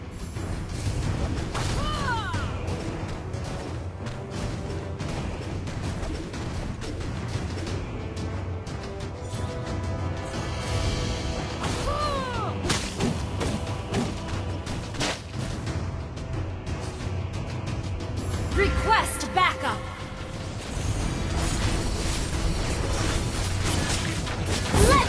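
A turret being attacked and destroyed in the Mobile Legends mobile game, with booms and crashing impacts over a constant bed of game music and effects, building up toward the end.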